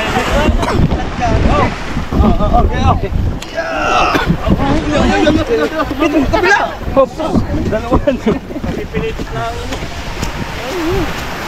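A large boat motors across the sea, with constant wind buffeting, engine rumble and sloshing water close by. People talk loudly over it throughout.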